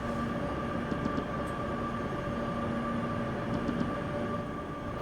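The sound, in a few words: electric train running in Train Simulator 2021, video game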